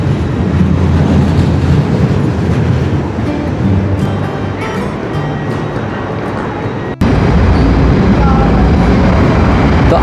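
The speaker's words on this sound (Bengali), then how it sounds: "তো আমাদের কাঙ্ক্ষিত ট্রেনটি চলে এসেছে ইতিমধ্যে।" Inside a Zurich-to-Amsterdam train underway, a loud steady low rumble and rushing roar fills the whole stretch, with a brief dropout near the end before the same heavy running noise resumes.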